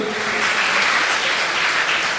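A crowd at a singing competition in Bhubaneswar breaks into sustained, loud applause, dense clapping held evenly throughout without pause.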